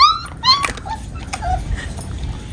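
A female dog gives a few high, wavering whimpers and yips up close at the start, then quieter shuffling sounds follow.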